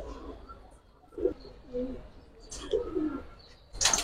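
Lychee-coloured domestic pigeons coo softly in a few short, low phrases, with faint chirps and a brief rustle near the end.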